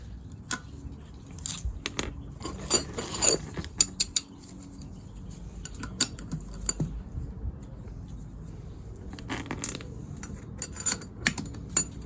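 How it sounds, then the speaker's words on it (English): A spanner unscrews a seized alternator pulley from its shaft on a Land Rover Freelander 2, giving intermittent metallic clicks, creaks and ratcheting taps over a quiet background, close and irregular. "Then use your spanner to unscrew it off the shaft."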